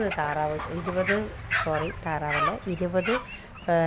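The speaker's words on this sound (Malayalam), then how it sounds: "അപ്പോൾ നമ്മുടെ ഗ്രാമശ്രീ കോഴികളാണ്" Gramasree chickens clucking and squawking in short repeated bursts, close up, with overlapping calls and a busy farmyard feel.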